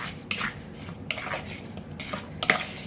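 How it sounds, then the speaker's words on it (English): A spatula scrapes and stirs a sticky gummy mixture for lemon-flavored pico gummies in a bowl, giving soft irregular scraping strokes with a few sharper clicks against the dish, close and fairly quiet. "it's gonna get sticky and a little messy, so I'm just bringing out a spatula"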